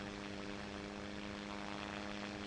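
An airplane engine in a video game held at full throttle while the plane pulls up, giving a steady, loud, continuous droning hum with strong tonal harmonics and no voices.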